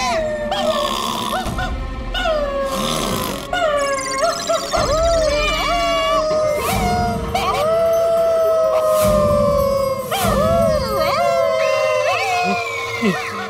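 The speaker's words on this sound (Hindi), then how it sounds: "घर में कुत्ता भी है।" A dog howls in long, wavering rising and falling tones, loud and close, repeated several times among other noisy sounds.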